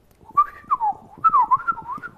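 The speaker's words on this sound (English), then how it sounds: "And you're a really incredible whistler" A person whistles a wavering melody up close, with several short rising and falling phrases separated by brief pauses, clear and alone without speech.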